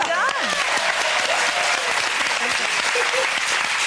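Studio audience on a daytime talk show claps loudly and steadily throughout, a dense wash of applause with a few voices and whoops rising over it.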